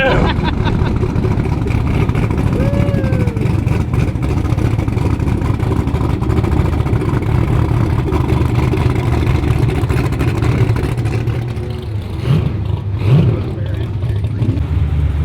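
A turbocharged Fox Body Mustang running on methanol idles and warms up, its engine droning loud and steady with a rough, uneven burble, a couple of brief sharper blips near the end.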